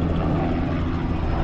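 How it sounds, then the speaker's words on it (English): A helicopter drones overhead outdoors, a loud continuous broadband rotor and engine roar with no break. "That friggin' helicopter, man."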